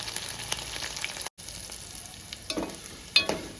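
Chillies and crushed garlic frying in hot oil for a dal tempering, a steady close sizzle with soft crackles and a couple of brief spattering pops, no one speaking.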